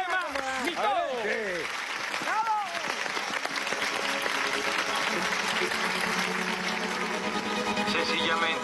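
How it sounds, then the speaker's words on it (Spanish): Loud audience applause in a television studio after an announcer calls for a round of applause, a sustained roar of clapping with a voice speaking over it at first. "Un fuerte aplauso"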